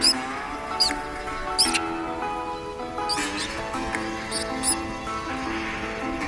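High, sharp squirrel chirping calls burst out several times over a steady background of chattering and soft music.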